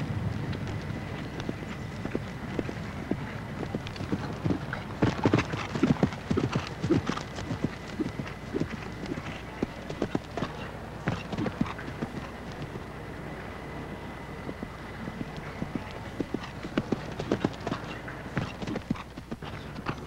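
Horse hooves drum and thud over turf during the show jumping round of an eventing championship, a steady galloping rhythm with occasional sharper knocks, moderately loud and continuous with no talk.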